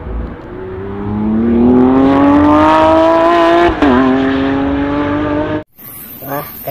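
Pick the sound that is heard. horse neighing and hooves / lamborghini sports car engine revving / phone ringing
lamborghini sports car engine revving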